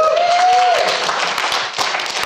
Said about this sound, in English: A round of applause for Kushal.